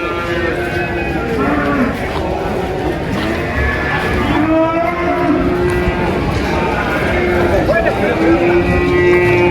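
Cattle moo repeatedly at Mundulan livestock market among a large herd of jumbo-class feeder bulls, including Simmental, with overlapping calls, crowd noise and talking close by.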